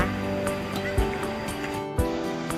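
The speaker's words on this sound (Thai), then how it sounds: "น้ำตกถ้ำพระ ชั้นที่หนึ่งค่ะ" The first tier of Tham Phra waterfall in Bueng Kan rushes in a steady, dense wash of falling water, loud and near, with faint splashes and no talk over it.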